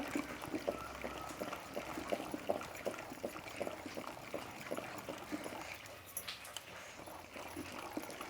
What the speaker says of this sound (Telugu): ఇప్పుడు ఈ పప్పు కూడా వేసేద్దాము.